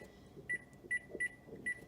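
A kitchen timer set for bread dough to rise, four short sharp electronic beeps at an even pace, close and clear over faint background noise.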